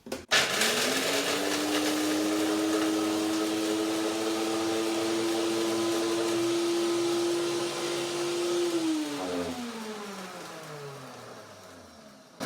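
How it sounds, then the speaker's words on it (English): A blender grinds hazelnuts into nut meal: a loud, close, steady motor whine that holds for about eight seconds, then winds down and stops, with no talk over it. "You have this nut meal in seconds. Yeah, the blender is so quick with that."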